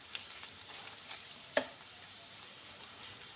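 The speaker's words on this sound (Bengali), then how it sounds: "এইভাবে করে সবগুলো আমি উল্টে পাল্টে একটু হালকা করে ভেজে নেব।" Potatoes coated in salt, turmeric and chilli fry in a kadai with a faint, steady hiss, broken once by a sharp utensil click midway.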